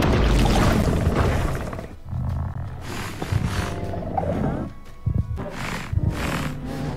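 Minecraft warden mob noises in a video game: loud, rough growling and roaring bursts with short pauses between them, mixed with voices from the players.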